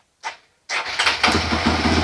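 A bored-up Honda CRF motorcycle engine enlarged to 300 cc, running a total-loss electrical system, cranks on its electric starter after a brief preceding sound. It catches and settles into a loud, close, steady running note.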